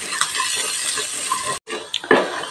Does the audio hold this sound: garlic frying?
yes